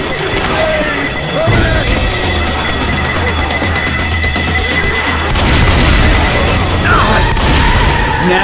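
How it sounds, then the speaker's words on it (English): A pipe bomb blasts in Left 4 Dead 2 gameplay, a loud booming burst amid dense chaotic game noise and gunfire, with players shouting over the din. "Pipe bomb!"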